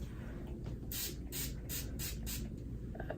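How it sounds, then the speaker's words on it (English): Urban Decay setting spray misted onto a face: five quick hissing spritzes in a steady rhythm, close and soft, with no talking. "We're gonna use the Urban Decay setting spray"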